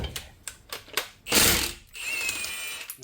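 A socket ratchet works on a Subaru STI wheel, giving a few separate sharp clicks up close, then a louder burst of broadband noise and a fainter rasping, whining sound.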